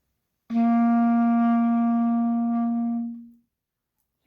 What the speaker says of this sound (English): The next member of the woodwind family is called the clarinet.